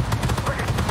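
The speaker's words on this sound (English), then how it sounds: "the other is a 20 millimeter automatic cannon. The automatic cannon is usable in game." A 20 mm automatic cannon on an AMX-30B2 Brenus tank fires in the Armored Warfare video game, a rapid, steady burst of loud, close gunshots repeating evenly through the short stretch.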